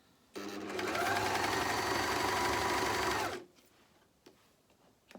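A JUKI MCS-1500N coverstitch machine hems fabric through a hem guide attachment in one steady, loud, continuous run of about three seconds, then stops, leaving faint handling clicks close by.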